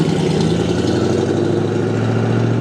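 A 1964 Ford Galaxie 500 XL with a 427 cubic inch V8 idles in a loud, steady, low rumble close by, with no one talking over it.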